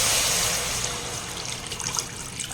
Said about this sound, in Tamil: இப்போ வந்து தண்ணி வந்து சேர்த்துக்கலாம்.